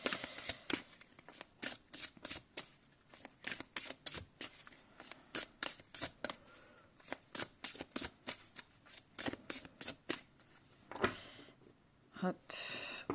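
Oracle cards riffled and shuffled by hand in a rapid series of crisp, papery flicks, close and fairly soft, with a brief louder flurry near the end.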